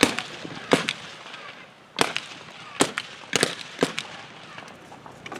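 Sharp blank gunfire cracks in an irregular volley at a World War One battle reenactment as British infantry advance under fire against German troops, about a half-dozen loud reports, some doubled, over an outdoor background.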